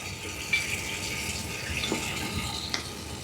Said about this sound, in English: I leave the water running while I refill it with bleach